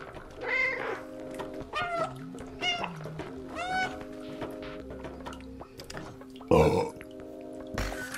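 A cat in the video game Stray gives a series of short meows over layered electronic game sounds, with a louder sharp burst near the end.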